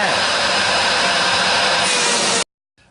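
A Nybakke all-metal, American-made canister vacuum cleaner runs at full power with a loud, steady broadband roar and high whine for over two seconds, then cuts off abruptly into silence.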